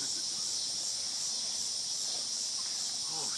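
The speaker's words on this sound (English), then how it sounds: "the crickets sing" Crickets chirp in a steady high-pitched drone as a background effect in a Shakespeare stage play, continuous and moderately loud with faint sounds beneath.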